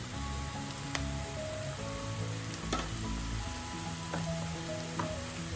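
Potato, carrot and beetroot pieces stir-fry in hot oil with salt and turmeric, giving a soft, steady sizzle with occasional scraping and clinking of a spoon against the pan, no talking.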